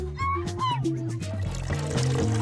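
Coke flooding and pouring in a mobile escape puzzle game: continuous liquid gushing and trickling under bright, bouncy game music with cartoonish chirps, moderately quiet and steady throughout.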